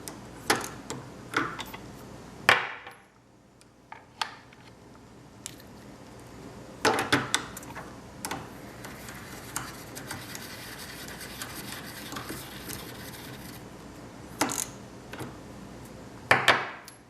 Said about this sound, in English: usually only takes about 2 to 3 seconds of trimming per piece of brass